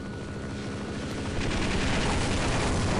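A helicopter in the video game Half-Life: Opposing Force gives a dense, steady roar with a rapid rhythmic chop, loud and constant, building slightly toward the end.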